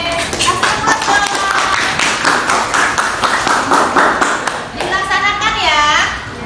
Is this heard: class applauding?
yes